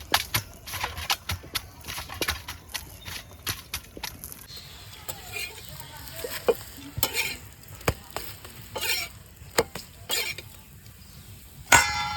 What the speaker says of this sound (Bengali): এবার এটাকে ফ্রাই করে নিলাম গরম গরম